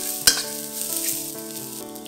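Ginger, garlic and shallots sizzle in hot oil, a close steady frying crackle opened by one sharp clack of a utensil, with light stirring underneath and no talking.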